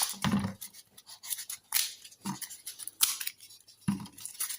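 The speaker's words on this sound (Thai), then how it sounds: "ฉีกโฟมให้เป็นชิ้นๆครับ" Foam is torn into small pieces by hand, close and quiet, as a string of separate crisp ripping and crunching bursts with short pauses between them.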